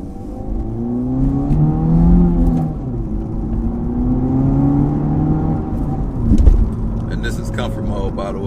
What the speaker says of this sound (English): Y'all hear it inside the car for a little bit.